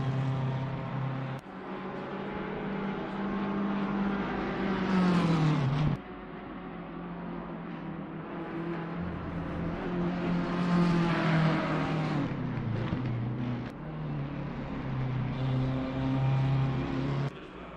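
Race car engines roar continuously in Assetto Corsa Competizione during a 4-hour endurance race at the Nürburgring, with rising and falling revs and gear changes over about eighteen seconds, no talk heard.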